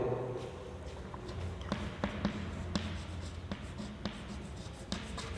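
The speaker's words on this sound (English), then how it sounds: "I will like to write this line on the blackboard." Chalk writing on a blackboard during an English lesson, a series of sharp taps and scratchy strokes at moderate distance over a steady room hum, with no talk.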